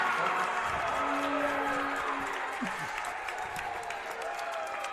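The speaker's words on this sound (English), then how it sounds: "And the crowd erupts there for the senior." Crowd at a high school boys basketball game cheering and applauding for a senior, a steady roar of applause and shouts filling the gym with commentator talk over it.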